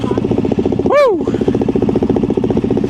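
A Yamaha Tenere 700 motorcycle engine idles with a steady, rapid thumping beat close by, and a brief rising-and-falling whistle-like vocal sound cuts across it near the middle.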